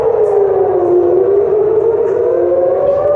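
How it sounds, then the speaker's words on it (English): Air raid siren wailing across Tel Aviv at night, a steady loud tone that dips then slowly rises, heard from a hotel window with nothing else over it. "air raid sirens rang out in the city of Tel Aviv last night."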